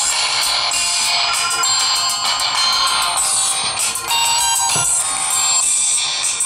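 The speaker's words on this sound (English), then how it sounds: "Let me play back a music track for you and show you how loud it is when it comes to audio." A music track plays loud and bright through the speakers of a Micromax Yu Yuphoria phone, with steady beats and a continuous melody but thin low end.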